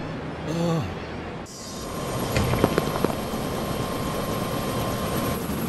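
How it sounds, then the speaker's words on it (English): A toy helicopter engine sound whines steadily at close range during a Lego City cartoon landing, with a brief voice near the start and a few sharp clanks partway through. "So it looks like I know how to fly a helicopter then."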